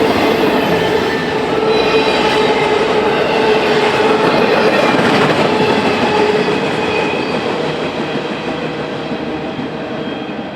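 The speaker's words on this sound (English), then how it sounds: "The lengthy Y310 continues to sneak into Kirk Yard as a yard switcher pulls west for headroom" A long freight train rolls steadily through the busy Pine Junction rail yard, its loud, continuous rumble and clatter close by, with faint wheel squeal riding above it throughout.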